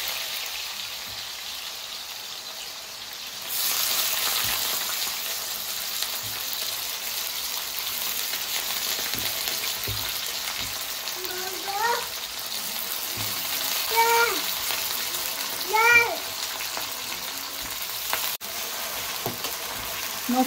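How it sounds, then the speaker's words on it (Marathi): Potatoes frying in a pan hiss in a steady sizzle that jumps louder after a few seconds, with soft clinks of stirring and faint chirping in the background, and no one talking. "आता आपण बटाटे फ्राय करून घेऊया."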